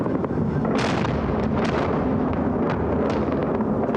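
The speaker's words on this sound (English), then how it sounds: "This is the beginning of the shock and awe campaign." Bombing explosions during the shock and awe campaign over Baghdad form a dense, continuous roar of blasts and rumbling booms, loud and distant-sounding, with sharper bursts punching through, no talking.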